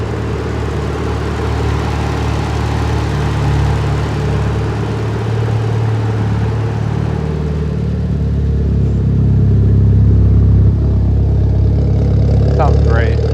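A 2003 Mitsubishi Evo 8 GSR with aftermarket cams and noisier lifters runs steadily, a low engine rumble and faint ticking with a brief rise toward the end, close by with no talk.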